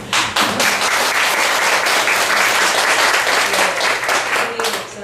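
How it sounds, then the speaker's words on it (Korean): An audience at a business presentation applauds loudly and steadily, dense clapping filling the whole stretch before easing slightly at the end. "박수 한번 보내드려야 돼요"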